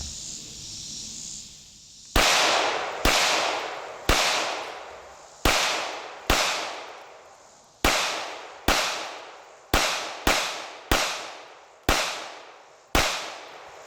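Glock 17 Gen 5 9mm pistol fired at a cinder block outdoors: a dozen loud, sharp shots in an uneven rhythm, some spaced a second apart and others in quick pairs, each followed by a short ringing decay.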